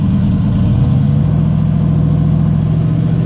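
A turbocharged Buick Regal with an LS V8 swap and a changed exhaust revs on a dyno, a loud, close, steady engine drone that climbs and then holds a rising pitch.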